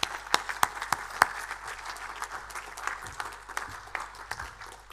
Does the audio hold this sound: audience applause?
yes